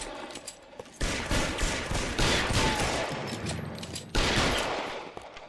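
Gunfire in L.A. Noire comes as bursts of sharp shots, a heavy volley around the first second and another near the fourth, with echoing crackle between them and no talk.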